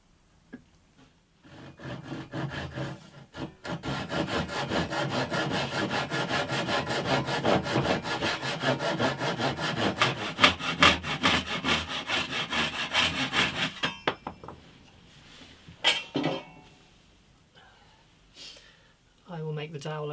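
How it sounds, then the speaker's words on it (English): A pillar drill bores holes into wood with a steady, loud grinding whir that lasts over ten seconds, then winds down, followed by brief voices. "I'm going to use the pillar drill for the holes"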